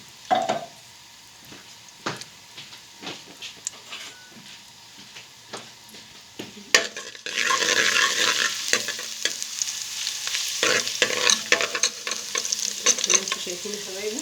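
Garlic sautés in a pan for Egyptian baba ghanoush, with scattered spoon taps and scrapes at first, then a sudden louder, steady sizzle as it hits the hot oil, stirred with repeated clinks.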